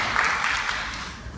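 A lecture-hall audience applauds a visiting doctor after his class on autoimmunity, a steady wash of clapping at moderate volume that holds evenly through a short stretch.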